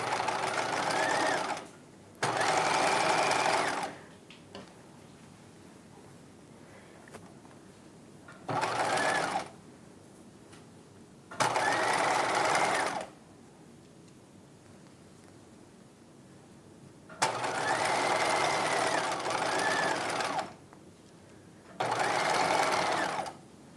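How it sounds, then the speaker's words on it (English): A sewing machine bastes a circle skirt seam at a half-inch allowance, running in six loud, even bursts of rapid stitching separated by quiet pauses, with no voices. "Okay, I'm gonna start stitching. I'm using 1/2 inch seam allowance, and no need to backstitch, we're just basting here."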